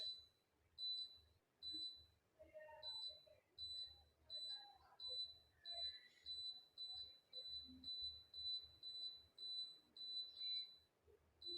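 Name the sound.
Daikin air conditioner beeping an error code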